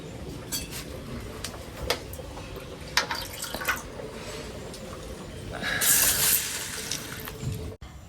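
Water is poured over lentils (dal) in a bowl in a home kitchen, giving soft drips and small splashes that swell into a brief pouring rush near the end. The sounds are faint and close.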